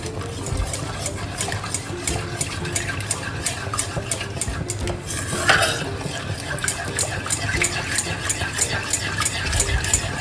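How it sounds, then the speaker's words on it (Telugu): Milk stirred into a white sauce for pasta in a pan, with a spoon scraping and tapping the pan in a regular rhythm of repeated strokes, close and moderately loud over a low background hum. "కొంచెం పాలు వేసుకొని ఫస్ట్ మనం కలిపేసుకుందాము."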